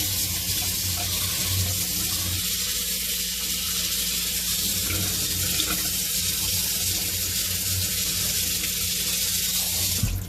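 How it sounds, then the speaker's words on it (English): Lukewarm water poured steadily over flattened rice (poha) to wet it, a continuous rushing, hissing flow that runs unbroken for about ten seconds with no one speaking. "This is just lukewarm water, and I'm just going to try to wet the entire poha"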